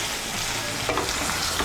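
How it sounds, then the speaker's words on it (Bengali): Raw mustard oil being stirred into bottle gourd greens in a pan, a steady close, loud sizzle with a few soft scraping strokes near the end; no one speaks. "সর্ষের তেলটাকে ভালো করে মিশিয়ে নেব"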